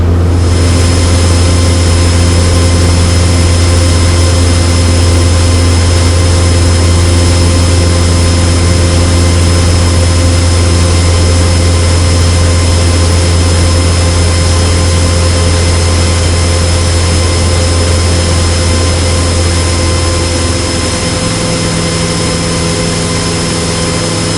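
Steady, loud drone of a Cessna 150 light aircraft engine heard from inside the cabin during approach, holding constant before the tone drops near the end as power falls.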